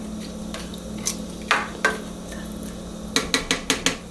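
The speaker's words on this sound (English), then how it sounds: "Let's push this broccoli in." Broccoli pushed into a pot of soup with a spoon: soft scraping and a series of sharp clinks of utensil against pot, several quick knocks near the end over a low steady hum.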